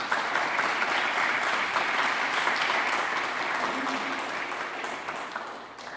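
Sustained audience applause greets Professor Jennifer Frey as she steps up to lecture on Elizabeth Anscombe's thought, a dense, even patter from a full room that holds steady for several seconds before easing off slightly at the end.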